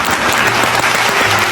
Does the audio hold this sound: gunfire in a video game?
no